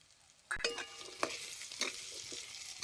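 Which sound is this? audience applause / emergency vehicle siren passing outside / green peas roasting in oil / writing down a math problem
green peas roasting in oil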